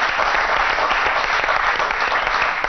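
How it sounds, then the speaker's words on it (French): Studio audience at a Moroccan TV show breaks into dense, steady applause, many hands clapping at once in a loud continuous wash with no talk over it. "On peut l'applaudir quand même"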